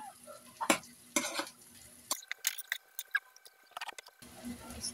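Fried tofu pieces stirred into sautéed onion and chili in a pan, giving a few sharp scraping clatters and a soft sizzle, then a stretch of quieter scattered clicks before the sizzle returns.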